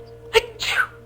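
A storyteller's voice imitates a cow's sneeze in a children's tale: a sharp, close intake catch followed by a loud, hissing burst, alone without words.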